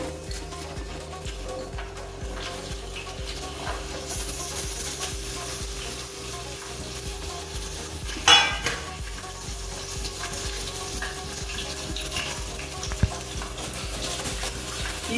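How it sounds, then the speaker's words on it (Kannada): Mixed vegetables roast in a pan for a traditional Davangere dish, giving a low, steady sizzle with scraping stirs and a sharp clatter partway through, all under background music. "ಎಲ್ಲದನ್ನು ಒಂದ್ 2 ರಿಂದ 5 ನಿಮಿಷ ಸ್ವಲ್ಪ ಚೆನ್ನಾಗಿ ರೋಸ್ಟ್ ತರ ಮಾಡಬೇಕಾಗುತ್ತೆ"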